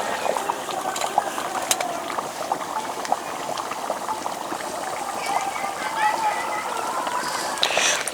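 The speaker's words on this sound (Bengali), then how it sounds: "এবার খুব বেশি জাল করতে হবে না, 2 মিনিট ফুটিয়ে নিলেই হয়ে যাবে।" A chicken and potato curry bubbles in a pot, a steady close simmering gurgle and popping with a few light utensil clicks, under a voice talking.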